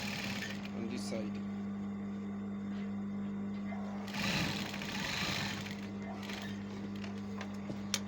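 Sewing machine top stitching along fabric edges, a steady mechanical hum with a constant drone throughout, a brief louder burst midway, and a voice speaking over it.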